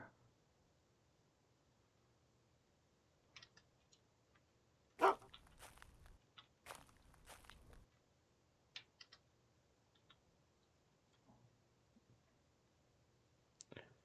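A dog barks in the survival game UnReal World in two brief clusters of barking separated by quiet, with scattered soft mouse clicks through otherwise near silence.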